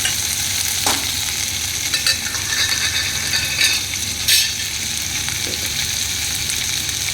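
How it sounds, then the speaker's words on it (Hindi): Drumstick (moringa) pods fry with mixed vegetables and tomato in a village kitchen, giving a loud, steady sizzle with occasional scraping stirs of a spoon against the pan. No one speaks. "मैं उसी के साथ मुनगा को भी भून लूँगी।"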